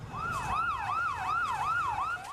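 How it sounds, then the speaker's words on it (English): An ambulance siren wails through ruined streets after the Beirut explosion, a steady rising-and-falling cycle repeating about every second, clear and fairly near, with low traffic rumble beneath. "Ambulances hurtled through the ruined streets."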